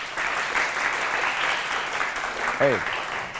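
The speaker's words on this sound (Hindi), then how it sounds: "इस बात पे भी तालियां बजा दीजिए।" Studio audience applause on a morning TV show, steady dense clapping throughout at moderate volume, with a brief voice cutting in near the end.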